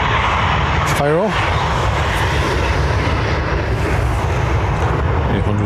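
A 17-year-old Ryanair Boeing 737-800 operated by Malta Air departs runway 10R at Dublin Airport with a loud, continuous broadband engine roar, while a voice speaks over it.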